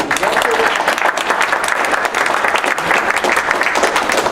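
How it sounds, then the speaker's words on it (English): A close, loud round of applause from an audience for presenters at a small-scale devices Q&A session. The clapping is dense and sustained, with crowd noise and some voices mixed in. "Let's have another round of applause for the presenters."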